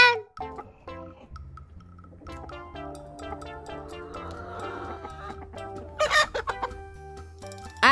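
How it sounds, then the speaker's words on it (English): A hen clucks in short bursts over a bouncy children's alphabet song with a steady musical backing, and rooster-like calls rise near the end. "H for hen"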